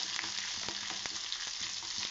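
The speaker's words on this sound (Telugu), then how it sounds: "ఒక బౌల్లో ఆయిల్ హీట్ చేసి అందులో ఆనియన్స్, పచ్చిమిర్చి వేసి అవి వేగిన తర్వాత" Onions and green chillies frying in hot oil in a bowl: a steady, bright, continuous sizzle, close and fairly loud, with occasional small pops and crackles throughout.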